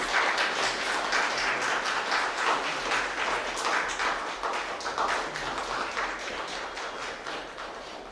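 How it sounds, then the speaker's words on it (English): Applause for a priest at a Christian praise and worship gathering, a dense sustained round of clapping from a crowd lasting several seconds and slowly tapering off. "Let us give a big clap."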